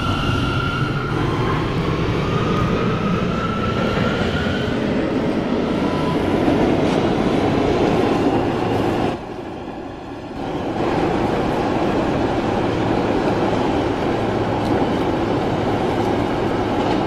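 New York City subway R179 train running, a loud continuous rail roar with rhythmic wheel clatter, dipping briefly midway before resuming at full strength.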